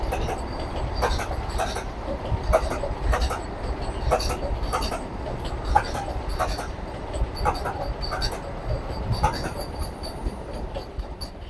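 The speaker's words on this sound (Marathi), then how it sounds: "आत्ताच हुबळी पुणे वंदे भारत एक्सप्रेस विश्रामबाग रेल्वे स्टेशनवरून स्किप झालेलं आहे" Hubli–Pune Vande Bharat Express running through a station without stopping, a steady loud rumble with rhythmic clicks of wheels over rail joints throughout.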